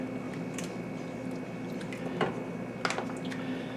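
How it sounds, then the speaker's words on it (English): Texas chili beans being stirred in a pot on the stove give soft wet squishes and a few light scrapes, two sharper clinks near the end, over a steady low background hum. "Give this a little stir."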